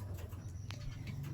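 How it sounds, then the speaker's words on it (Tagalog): Birds on a shop roof give soft cooing calls like pigeons or doves, set against a steady low hum with no talking. "maraming ibon naglalaro guys sa bubong"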